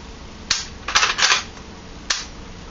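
The bolt of a KJW M700 airsoft rifle makes crisp metallic clicks and a quick sliding clack as it is flicked open, then one more click a moment later. No talking is heard.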